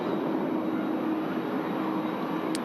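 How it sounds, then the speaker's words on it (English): Steady, loud roar of an Airbus A330 with CF6 engines departing Manchester Airport, a continuous broadband rumble heard from a distance with no talking. "CF6 engines sounding nice and loud there"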